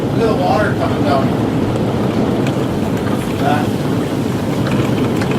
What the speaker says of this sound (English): Look at the water coming down.